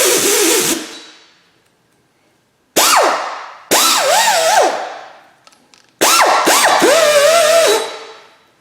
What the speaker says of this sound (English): We're going to use the 3M hub cleaning tool that gets the little spot in behind the